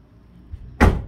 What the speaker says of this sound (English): shut the trunk